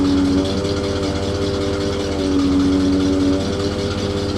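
Bucket truck motor running steadily at a raised idle with a continuous low rumble and faint tonal whine, close and loud throughout with no talking.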